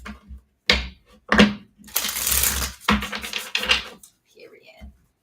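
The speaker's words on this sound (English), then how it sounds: "Last shuffle for a guided message." Several brisk riffling bursts of cards being shuffled, close and fairly loud, with short pauses between them.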